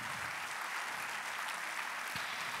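Audience applause at a general assembly of a business association in Paris, a steady broadband wash of many hands clapping together, sustained and fairly even throughout with no voices on top.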